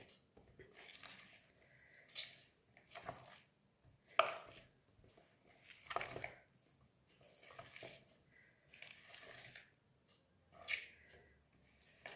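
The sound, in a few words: mixing cauliflower in batter with a spoon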